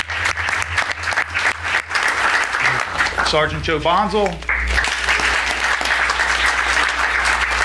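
Applause from an audience at a township committee meeting, honoring former police officers: steady dense clapping throughout, with a voice briefly speaking over it midway.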